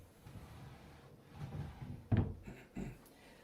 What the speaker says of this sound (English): you can also examine how smoothly the drawers function